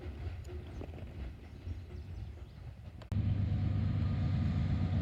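An old NYC transfer freight train at Oak Harbor passes heading south, shifting from a quieter distant rumble to a loud, steady close roar of rolling cars.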